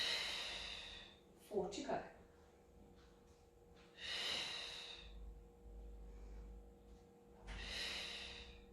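Heavy breaths during a Pilates exercise, three long forceful exhales at an even pace close to the microphone, with a brief spoken count between them.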